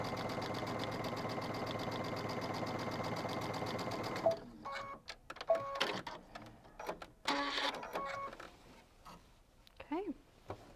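A sewing machine stitches a quarter-inch seam joining quilt pieces, a steady fast whirring run for about four seconds, then stops and gives way to fabric handling and scattered small clicks.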